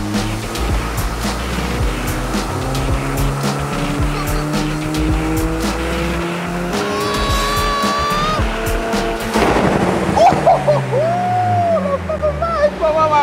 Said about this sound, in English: It didn't make pops and bangs before.